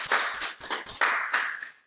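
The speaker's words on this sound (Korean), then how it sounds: "이렇게 새 스튜디오를 준비해 주신 우리 조지현 집사님과 우리 김혜랑 권사님께 우리 감사의 박수 한번 드리겠습니다" Clapping from a church congregation giving thanks during a Sunday online worship service in a new studio, a short burst of scattered hand claps, fairly close and fading out, with no talking over it.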